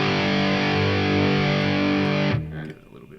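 An electric guitar played through a Tri-Axis yellow distortion preset rings out a thick, sustained distorted chord, loud and close, before being cut off abruptly near the end and decaying into faint noise.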